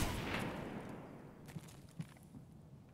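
A muffled burst of SA-58 rifle fire in Escape From Tarkov booms from a nearby room, then fades into a low rumble with a couple of duller thuds afterward.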